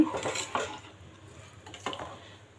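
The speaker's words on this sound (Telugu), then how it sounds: "ఒకసారి అంతా బాగా కలిపేసుకోవచ్చు" A utensil stirs mint rice and water in a cooking pot, giving a few distinct scraping clinks against the metal with quiet gaps between them, close and alone.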